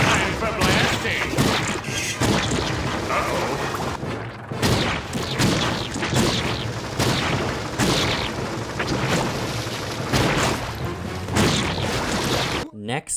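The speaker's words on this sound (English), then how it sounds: "This tank's falling apart! Time for blasting!" A tank blasting away in SpongeBob's Atlantis SquarePantis, a rapid, loud barrage of booms and crashes that fills the whole stretch with only brief gaps.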